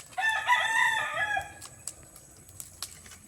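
A rooster crows once, loud and close, with the call trailing off after about a second and a half, followed by scattered faint clucks and small chirps in quiet outdoor air.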